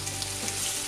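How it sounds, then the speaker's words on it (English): Bacon cooks down to crispy in a pan with a dense, steady sizzle that stays close and fairly soft for a brief moment. "We can start by cooking our bacon down and getting it a bit crispy."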